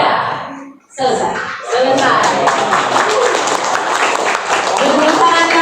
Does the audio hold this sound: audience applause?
yes